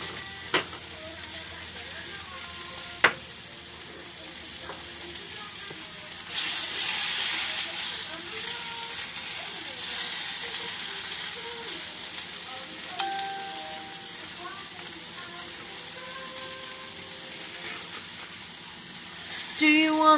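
Apples fry in a non-stick pan with a soft, steady sizzle and hiss, fairly quiet, with occasional louder bursts of crackle and a few clinks, under intermittent faint talk.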